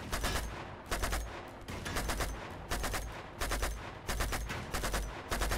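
Repeated bursts of rapid gunfire from enemy shotgunners in Uncharted 2 come in clusters about a second apart, loud and close, with no talk over them.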